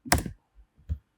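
A couple of keystrokes on a computer keyboard while typing a web address, two short close taps with a faint click between them.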